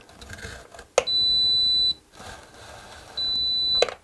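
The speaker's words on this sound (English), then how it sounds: "So we'll take my stud finder." An electronic stud finder gives two sustained high-pitched beeps as it slides along a wall to locate stud edges. Each tone lasts about a second, the second follows after a short gap, and faint handling noise comes before and after each one.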